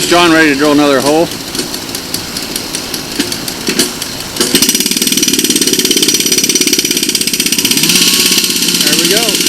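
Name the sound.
gas-powered whacker engine starting and idling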